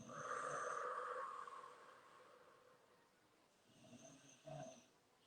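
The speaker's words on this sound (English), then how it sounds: "You probably hear my dog snoring" A dog snores softly and slowly with a raspy inhale, quiet and close, followed by a gentler snort-like breath.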